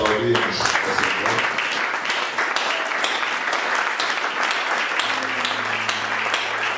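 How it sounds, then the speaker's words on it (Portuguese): Continuous applause from a church congregation, many hands clapping at a steady, loud level throughout, with voices heard through the clapping. "Eu pedi para aplaudirmos o Senhor."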